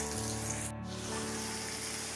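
Onions sizzling in a pan for Tamil-style egg gravy, a steady close crackle and hiss with a brief dip in the middle, no talk.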